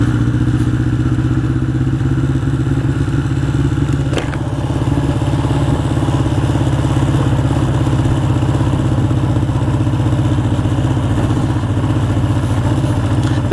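A 1981 Honda CB750 Custom motorcycle engine drones steadily and loud while riding through East Hampton, NY, its low rumble and wind roar continuous with one brief knock early on.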